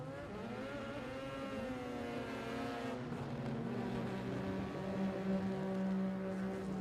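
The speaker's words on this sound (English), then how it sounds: "I love me some burnouts from the rear-wheel drive version of a GTR all-wheel drive" A rear-wheel-drive Nissan GTR race car does a burnout, its engine droning steadily with rising and shifting revs, heard from a distance as a continuous roar with no speech.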